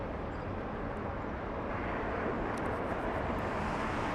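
Airliners, including a 747, taxiing on the ground at LAX, producing a continuous, dense, low engine roar at steady loudness with a few faint high chirps above.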